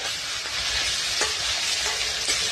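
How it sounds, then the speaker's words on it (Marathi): Onions frying in oil in a pan, a steady close sizzle with a few faint stirring scrapes and no talk. "कांदा थोडा लालसर भाजला, लालसर परतून झाला आहे"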